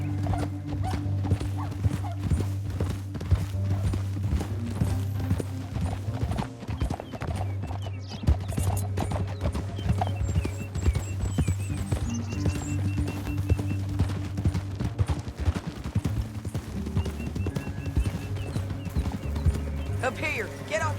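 Rhythmic hoofbeats of galloping horses clatter continuously with a horse whinnying in the game Red Dead Redemption 2, set against a steady musical drone, loud and busy.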